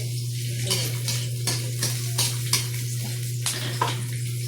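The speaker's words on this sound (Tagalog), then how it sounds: "So, next ay bawang at luya. Paghaluin ko na." Garlic and ginger for pork adobo sizzle in a pan while a utensil stirs, scraping and clacking in short irregular strokes over a constant low hum, with no voices.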